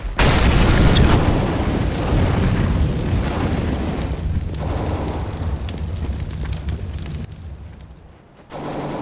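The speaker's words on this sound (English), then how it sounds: "I'm throwing a flashbang!" A flashbang grenade goes off in a competitive CS:GO match, a loud sharp burst at the start that decays into a long ringing rumble with further game noise after it.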